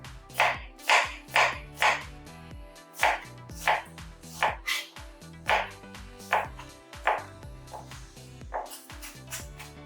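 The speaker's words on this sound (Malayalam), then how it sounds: "ഇതെല്ലാം ക്യൂബ്സായി കട്ട് ചെയ്യാം." A knife chopping celery, onion and carrot into cubes on a cutting board: a steady series of crisp, close thuds in an even rhythm, about a dozen strokes, with brief pauses between groups.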